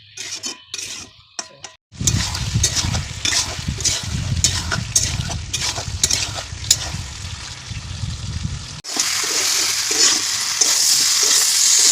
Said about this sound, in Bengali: তারপরে নাড়ার পরে এবার জল দিয়ে দেবো পরিমাণ মতন, অল্প জল দেবো। আবার নাড়বো।